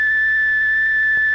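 A Mauch Stereotoner reading machine sounds the letter H as a steady, sustained electronic tone chord, a clear pure pitch with a fainter higher overtone, held evenly for just over a second with no talk.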